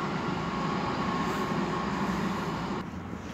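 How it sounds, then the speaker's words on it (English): A class 165 diesel train rolls into Reading station, a steady rumbling drone with a faint tonal hum that holds for several seconds before dropping away near the end. "We have a train."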